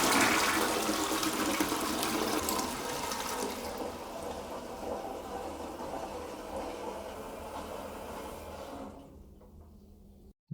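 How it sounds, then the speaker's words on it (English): A toilet flushing, a loud rushing surge of water that gradually tapers into a quieter refilling hiss before cutting to silence near the end, heard close and alone. "just constantly the flush."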